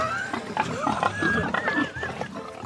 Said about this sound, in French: les cochons seront magnifiques, d'autant plus que c'est un lot qui est homogène